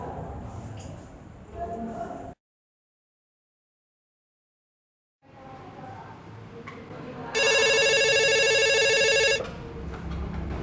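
A telephone rings with a bright electronic trill for about two seconds after a pause, amid background noise and some murmuring.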